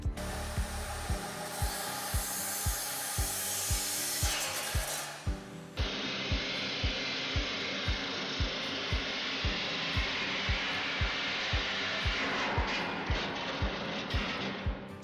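An angle grinder with an abrasive disc kicks back when pinched in the workpiece, a loud steady grinding whine with rapid rhythmic knocking, then a sudden break as the disc catches before the whine resumes.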